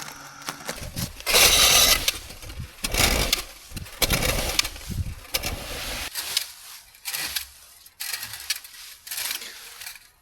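A Mammotion robotic lawn mower chewing through dry leaves, with bursts of rattling, crackling shredding over a whirring motor that rise and drop in uneven surges, close by.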